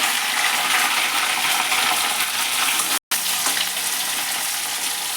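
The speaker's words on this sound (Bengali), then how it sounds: "আলুগুলো দিয়ে দিলাম, দিয়ে আলুগুলো ভালো করে ভেজে নিলাম" Potatoes sizzle and fry in hot oil in a pan while cooking a vegetarian aloo dum, a steady, close crackling hiss with a brief drop to silence near the middle before the frying resumes.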